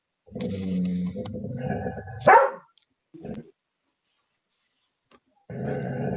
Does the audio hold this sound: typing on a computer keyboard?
no